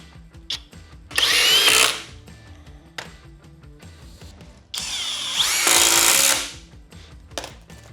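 Power drill-driver with a Torx bit sinking 3-inch screws, two loud sustained whirring bursts of about a second each, separated by lighter clicks and handling taps nearby.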